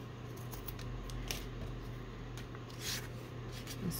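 Scissors trimming fabric for tabs and envelopes, a few faint, brief snips over a steady low background hum with no talk.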